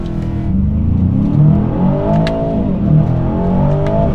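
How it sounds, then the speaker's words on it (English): Aston Martin DBX 707 SUV engine revving close by through gear shifts, loud rising engine notes broken by brief dips and crackles at each shift over about four seconds. "Making quite a nice sound on the gear shifts"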